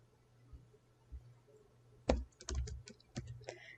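Keys tap on a computer keyboard while entering spreadsheet cell references, a few scattered clicks and then a quick run of typing, close and quiet.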